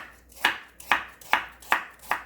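A knife chopping a carrot into half-moon slices on a board: five crisp, evenly spaced chops about every half second, close and clear, with no talking.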